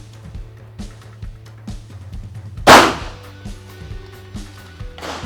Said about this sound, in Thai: CZ Shadow 2 ผมจะยิงไปที่ ระหว่างกลางแล้วกันนะครับ ที่เป้าไม้